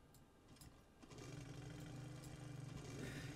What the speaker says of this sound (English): And then we get the fun of the engine starting,